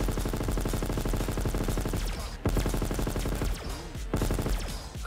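Ray guns fire continuously in Black Ops 3 Zombies with a modded Ray5K weapon, a loud, dense stream of rapid synthetic energy blasts with sweeping sci-fi tones and a few brief breaks. The fire stays steady throughout.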